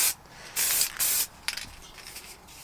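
Aerosol spray paint hisses in three light bursts of silver coating onto scuffed parking sensors for a Mercedes W203, each burst about half a second long, followed by quiet handling noises.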